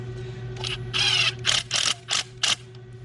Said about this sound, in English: it has these T25 Torx bits. And you just screw them in.